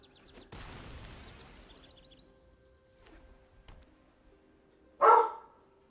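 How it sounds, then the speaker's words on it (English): After several seconds of quiet shuffling and soft indoor noise, a dog lets out a single loud, abrupt bark. "No need to be barking over there, doggy."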